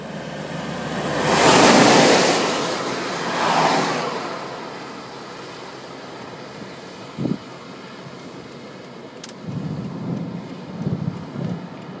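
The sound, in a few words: thunder from a nearby storm cell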